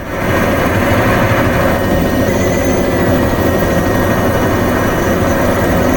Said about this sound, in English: that was a helicopter overspeeding.